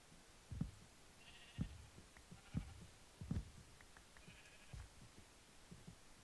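Sheep bleating in the Minecraft video game, a few short high bleats scattered over a steady low background with soft thumping footsteps, moderately faint and without talk.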